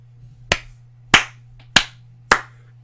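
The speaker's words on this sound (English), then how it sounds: "I gotta golf clap that." Four slow, sharp hand claps spaced roughly half a second apart, crisp and close over a faint steady hum, a deliberately sparse golf clap.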